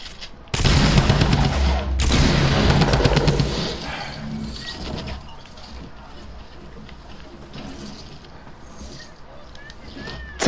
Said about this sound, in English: Tommy gun works perfectly.